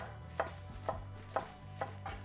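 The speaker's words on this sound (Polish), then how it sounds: "Cebulę kroję w ten sposób." A knife chops through a halved onion in five evenly spaced, crisp cuts, close and clear with no voices.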